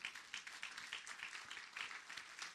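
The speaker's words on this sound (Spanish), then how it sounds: "Denle un aplauso, Señor." A church congregation applauds in a quiet, distant-sounding patter of many hands clapping together, steady from start to finish.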